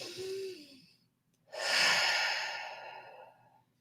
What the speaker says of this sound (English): So let's take a deep breath together.